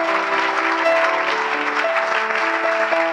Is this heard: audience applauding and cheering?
yes